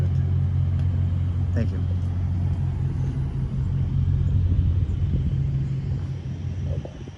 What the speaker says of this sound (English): So we will fire it up and then drive it.